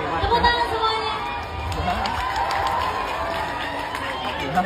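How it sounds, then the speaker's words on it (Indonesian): Crowd at an anniversary celebration clapping and cheering, a lively mix of shouts and claps with people chattering and voices rising over the noise, moderately loud and continuous. "Tepuk tangan semuanya."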